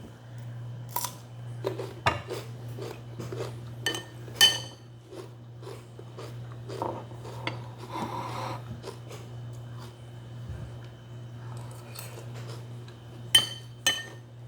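Cooked Indomie instant noodles being eaten with cutlery, sparse metallic clinks and scrapes against a dish over a steady low hum, scattered taps close by with no talking.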